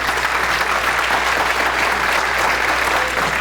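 An audience claps at the close of a conference, a steady, fairly loud wash of applause from a room full of people with a low hum underneath.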